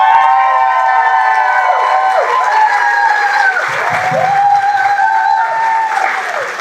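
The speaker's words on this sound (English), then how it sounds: "So everybody, please give a great round of applause" Applause and some cheering rise from a crowd at a mayoral campaign announcement, steady and fairly loud, with bright whistling or ringing tones sliding over the clapping throughout.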